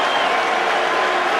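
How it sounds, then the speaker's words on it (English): Cricket crowd applause from a Test match between England and India, a dense, steady wash of clapping that fills the short stretch at an even level. "maybe the applause from England was genuine"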